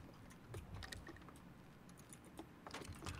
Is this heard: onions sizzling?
no